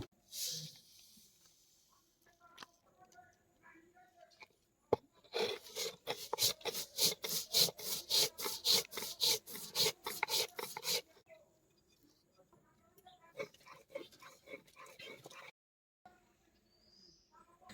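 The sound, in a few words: poppy seeds being ground into paste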